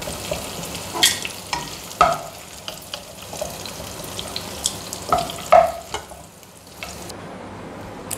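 Bitter gourd sautéing in oil in a pan, with a steady low sizzle and several sharp scraping stirs of a spoon against the pan, close up, and no voices.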